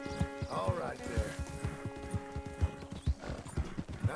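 A horse in Red Dead Redemption 2 clip-clops in a steady walking rhythm of close hoofbeats, with a rising whinny early on and a tonal hum running underneath.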